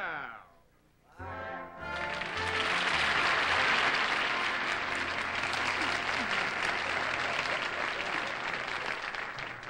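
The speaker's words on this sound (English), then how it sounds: "I thank you for the applause." A studio audience at a comedy variety show bursts into dense, loud applause after a brief quiet moment, and the clapping swells quickly and holds steady to the end.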